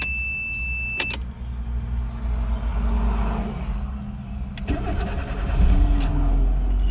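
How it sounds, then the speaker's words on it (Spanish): A used car that had not run, just repaired, gets its ignition turned a couple of times to prime the fuel pump before the engine cranks and catches, with clicks and a steady mechanical rumble close by. "Le doy contacto un par de veces para que la bomba coja presión."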